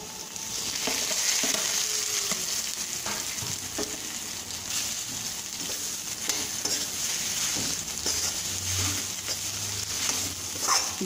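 Tapioca pieces fry with softened onions in a pan, a thick steady sizzle and hiss with scattered stirring scrapes, loud and close throughout with no one speaking.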